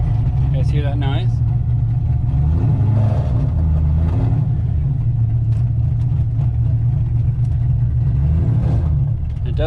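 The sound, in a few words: Corvette drift car drivetrain noise, suspected clutch slip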